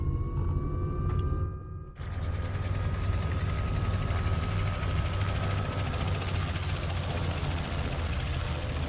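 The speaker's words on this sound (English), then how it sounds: "If I hop back in the cockpit and I throttle the aircraft up," A helicopter in Microsoft Flight Simulator 2024 throttles up from low idle: a quieter whine and rumble jumps into a loud, sustained turbine and rotor roar with a steadily rising high whine.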